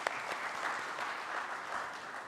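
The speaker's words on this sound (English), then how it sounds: "A huge round of applause for him," Audience applause fills a hall at a banking summit, steady clapping from many hands at moderate volume throughout.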